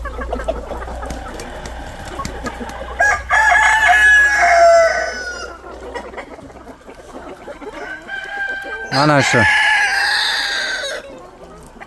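Free-range hens cluck steadily in grass while roosters crow loudly twice, close by, with a brief spoken phrase near the start.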